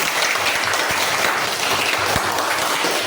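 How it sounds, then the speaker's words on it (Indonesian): A classroom of students applauds during a school teaching session, steady dense clapping filling the room from start to finish with no talk over it. "Tepuk tangan dulu."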